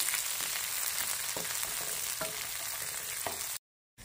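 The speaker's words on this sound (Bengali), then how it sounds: "এগুলো হালকা করে একটু ভেজে নেবেন, এটা বেশি ভাজার কোনো দরকার নেই।" Capsicum and onions fry lightly in a pan for a homemade chicken Patiala, giving a soft, steady sizzle with a few faint stirring knocks before the sound cuts to brief silence near the end.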